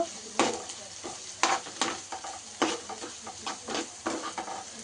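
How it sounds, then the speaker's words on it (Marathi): Onion frying in a pan for egg rice: repeated spatula scrapes and stirs, irregularly spaced, over a soft steady sizzle, fairly quiet and close, no speech. "आता याच्यामध्ये मी कांदा टाकते. कांदा थोडासा फ्राय करूया"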